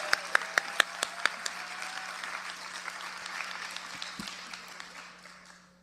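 A conference crowd at a workers' strike gathering breaks into applause, a few sharp individual claps opening into sustained clapping that gradually thins and fades out.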